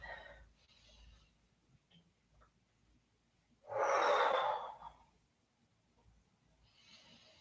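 A person breathing during a back rehab exercise, with one strong, close inhale lasting about a second and fainter breaths before and after in a quiet room.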